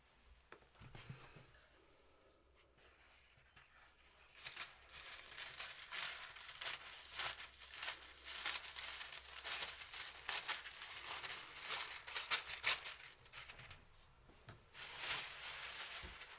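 Scissors cut through a paper sewing pattern for a dress, bringing steady crisp crinkling and rustling as the sheet shifts, close and fairly quiet, with no speech.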